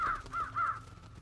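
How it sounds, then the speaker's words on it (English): Three harsh caws from crows in a point-and-click video game, evenly spaced and fairly close, fading quickly into quiet background. "Oh, sweet, crows!"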